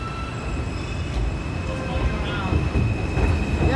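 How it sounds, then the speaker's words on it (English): An N subway train rumbles out of Coney Island station in New York on a rainy day, low roar building with squealing wheels and faint tonal whine, fairly close and steady. "The N train's leaving too."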